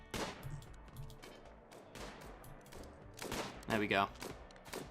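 Scattered gunfire in RimWorld, with separate sharp shots and short bursts spaced irregularly across the moment, partly overlapped by someone speaking briefly.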